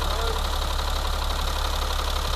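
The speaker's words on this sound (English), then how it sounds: "We got a beautiful, nice running engine." A 2000 Freightliner FLC120 truck engine idling smoothly close by, a steady, even diesel rumble with no breaks.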